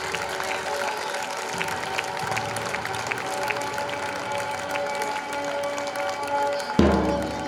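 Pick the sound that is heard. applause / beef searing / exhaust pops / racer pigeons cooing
applause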